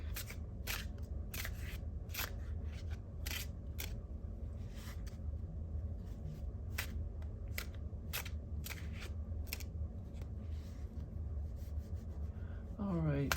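Tarot cards handled and drawn from a deck, giving repeated sharp crisp snaps and slides at irregular intervals over a steady low background hum, close by with no talking.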